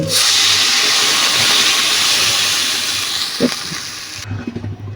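Water poured into a hot pan of cooking olive pickle sends up a loud, sustained hiss of steam that slowly fades, with a brief clunk near the end before it cuts off.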